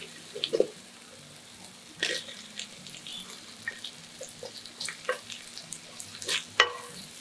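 Meatballs dropped into a pan of sautéed spices, frying with a soft crackling sizzle broken by sharp clatters and stirring scrapes, close and quiet, with no talk.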